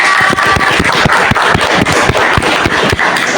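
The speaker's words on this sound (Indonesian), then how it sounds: "Kasih tepuk tangan." Classroom applause after a student group presentation, loud close-up clapping from a modest crowd with sharp individual claps standing out in an uneven, brisk rhythm and no talk.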